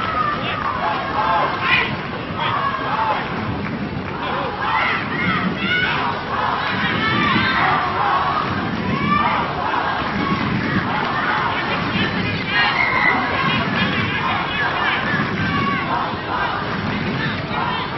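Rugby crowd at the Hong Kong Sevens cup final against Sri Lanka roars and shouts continuously as Hong Kong closes in on victory, a dense, loud, sustained swell of massed voices with surging cheers throughout.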